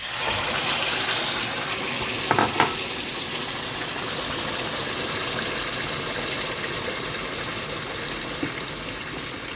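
Continuous splashing rush of boiled hot water being poured, close and steady, with a couple of brief clinks partway through.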